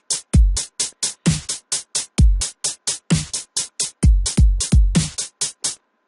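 A dubstep beat programmed in FL Studio: punchy kicks with deep low thumps, sharp snares and rapid crisp hi-hats in a tight repeating electronic pattern, loud and upfront, stopping abruptly after about six seconds.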